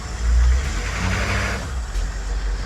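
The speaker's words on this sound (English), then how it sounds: "I'm just gonna give it some gas." AM General Humvee M998 engine revs up loudly as the vehicle climbs a staircase obstacle, a deep low rumble swelling and holding steady with no talk.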